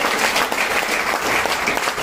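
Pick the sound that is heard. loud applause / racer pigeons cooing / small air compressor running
loud applause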